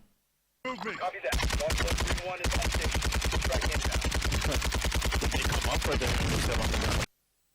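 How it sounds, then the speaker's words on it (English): Precision airstrike in a video game, heard as a loud, dense barrage of rapid blasts that runs for several seconds after a short lead-in and then stops abruptly. "Watch that precision airstrike."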